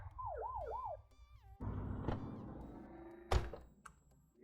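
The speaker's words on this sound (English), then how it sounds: "Get behind them and flip the siren to make them pull over." In the video game The Precinct, a police car siren wails in a rising and falling pattern, then breaks off into a rumble of engine and road noise, punctuated by a sharp thunk.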